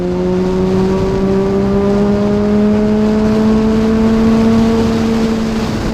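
A Kawasaki Z H2 motorcycle cruises along a road, its loud, close engine drone holding a constant strong tone whose pitch creeps slowly upward throughout.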